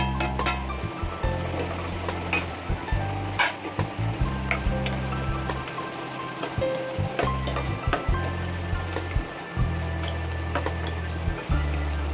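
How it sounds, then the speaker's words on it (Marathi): Chopped val bean (field bean) vegetable being gently stirred in a pan for a Konkani-style bhaji, with steady frying sizzle and repeated scraping, stirring strokes close up, no talking. "यामध्ये चिरलेली वालीची भाजी घालून हलक्या हाताने मिक्स करून घ्यायचे आहे"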